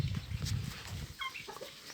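Chickens cluck and squawk in a noisy outdoor setting, with scattered bird calls rising over steady background rumble.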